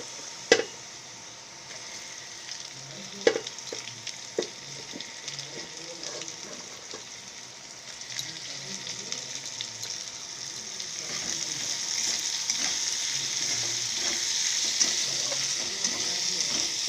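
Onions sizzling in mutton fat in a pan, a steady hiss of frying that grows fuller as they cook, with occasional sharp clinks and stirring scrapes.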